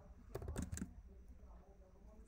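A short burst of keystrokes on a computer keyboard, a quick cluster of clicks followed by a pause and a final tap, faint and close.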